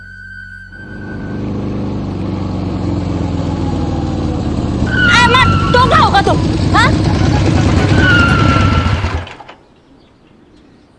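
A motorbike engine drones steadily and loudly for about nine seconds, rising slightly in pitch as it is ridden, then cuts away abruptly; voices speak briefly over the engine noise.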